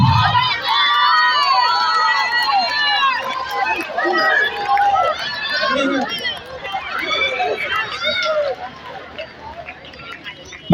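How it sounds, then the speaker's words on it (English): Large outdoor crowd at a Goan village festival, the Suralkarancho Mellavo 2024, cheering, whooping and shouting with children's voices, a steady lively roar lasting throughout, with a loud burst at the very end. "All right, come on, everyone, cheer them, come on. Tadi mare, clap your hands."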